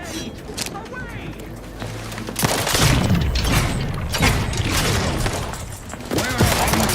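Grenade blast in The Outer Worlds 2, a loud booming burst over ongoing gunfire and combat noise, with a voice shouting a warning just before the explosion.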